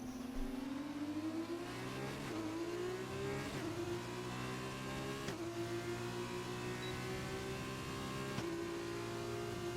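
A Formula 1 car engine in a racing game, Abu Dhabi circuit, pulling alongside with DRS to overtake: a steady high-revving whine with upshifts marked by brief drops in pitch, heard alone at moderate level.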